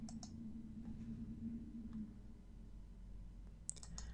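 A computer mouse clicks a few times, faint and close, with a couple of sharp taps at the start and one near the end over a quiet electrical hum.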